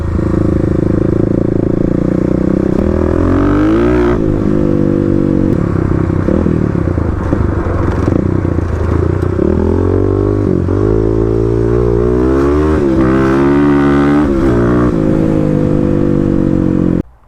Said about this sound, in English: new day here out on the KLX.